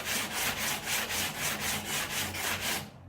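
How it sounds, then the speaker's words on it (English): A fiberglass truck canopy being repair-sanded by hand with 80 grit sandpaper, giving loud, close, rhythmic rasping strokes, about four per second, heard alone throughout. "it definitely seems like this 80 grit is the good way to go right now"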